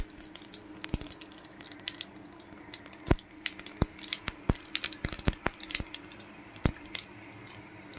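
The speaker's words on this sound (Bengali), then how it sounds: "আমি এই পর্যায়ে ফোড়নে দিয়ে দেব একটু গোটা সাদা জিরে" Whole white cumin seeds are tempered in hot, darkened oil left over from frying rohu fish for a light curry. Faint, scattered crackles and sharp pops come at irregular intervals over a quiet sizzle.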